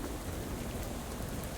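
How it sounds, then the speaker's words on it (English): Rain falls in the video game Shadow over Loathing as a dense, steady hiss with a soft low rumble underneath. It holds at an even level throughout, with no voices. "Oh, it's raining."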